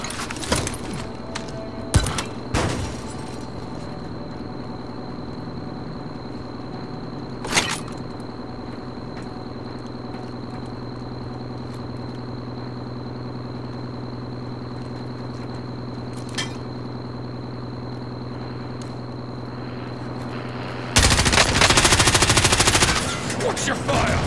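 Call of Duty: Modern Warfare gameplay with a steady low hum, a few scattered sharp gunshot cracks, and a loud dense burst of automatic fire near the end, with some talking in places.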